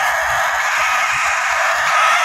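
A white-faced rooster crows loudly and close, one sustained call filling the whole moment with no talking.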